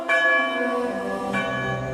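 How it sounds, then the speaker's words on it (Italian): A church bell tolls twice, each stroke ringing out loud and clear with a long shimmering decay, the second strike landing near the end over the fading hum of the first. "tutto scandito dalla campana, i rintocchi del tempo"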